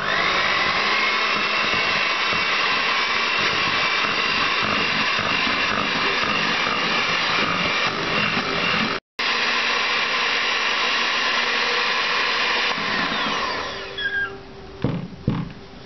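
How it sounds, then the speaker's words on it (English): A kitchen blender runs steadily and loudly while it mixes milk into eggless mawa cake batter. The motor's whine holds constant apart from one brief cut, then winds down and stops near the end, leaving a few soft clinks. "And again blend it well."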